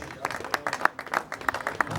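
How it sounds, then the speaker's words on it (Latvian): Applause and ovation at a running race award ceremony, a crowd clapping in bursts with a voice speaking over it. "Aplausi, protams, mīļie aplausi, ovācijas."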